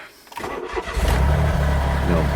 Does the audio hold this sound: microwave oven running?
no